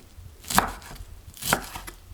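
A knife chops wild chive (dallae) on a board in two sharp, close strikes about a second apart, with quiet background between them.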